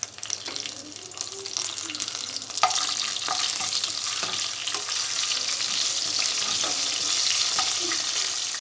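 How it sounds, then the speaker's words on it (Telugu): Mustard seeds, cumin, green chillies and curry leaves sizzle steadily in hot oil for Rayalaseema uggani, a dense crackling hiss with scattered pops and a sharper burst partway through, close and continuous with no talk. "వేడైన తర్వాత ఆవాలు, జీలకర్ర, పచ్చిమిరపకాయలు, కరివేపాకు వేసుకోవాలి."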